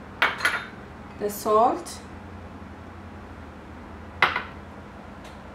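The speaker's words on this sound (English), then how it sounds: "So I'm gonna mix in the dry ingredients first to the flour." A utensil stirs dry ingredients such as salt, baking powder and spices into flour in a bowl for a coconut cake, making a few brief clinks and scrapes against the bowl between stretches of talking.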